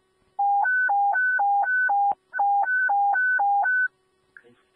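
A fire dispatch alert tone plays over radio, loud two-pitch warbling beeps alternating rapidly in two bursts separated by a short gap, clean against a quiet background.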